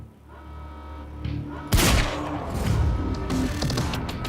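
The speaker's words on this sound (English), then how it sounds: "That was 4 headshots, if I counted correctly." Gunfire in a Remedy video game, a sudden loud burst of shots and impacts cutting in over a quieter background, followed by continued rumbling blasts and crashes.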